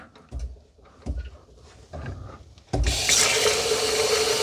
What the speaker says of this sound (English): You need to add 12 ounces, and then the rest will be just fresh water.